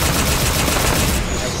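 Rapid automatic gunfire from the video game Halo 5 on PC fills a short burst, a dense loud rattle of shots that thins slightly at the end.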